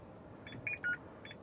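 Electronic beeps from a horse box dashboard as the ignition is switched on, a few short quiet tones in a quick pattern over a low hum, with no talking.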